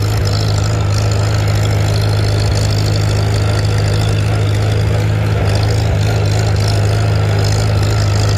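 A Farmall Super C tractor engine runs steadily in third gear with a loud, low, even drone and mechanical clatter, while a person talks over it.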